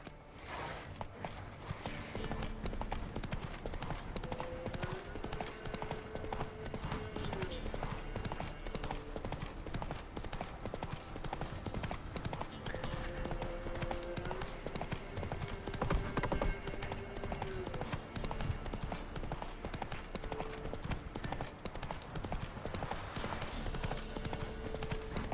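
Roach, a horse in The Witcher 3, gallops with rapid, steady clip-clop hoofbeats that carry on throughout, with faint game background sounds underneath.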